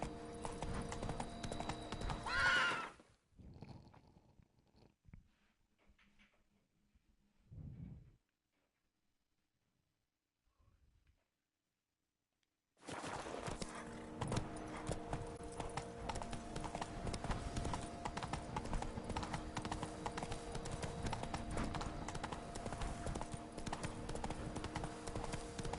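Hoofbeats from the horse Roach in The Witcher 3: Blood and Wine come as a dense, loud, steady clatter at the start, cut out into near silence with a few faint sounds, then resume as continuous galloping to the end.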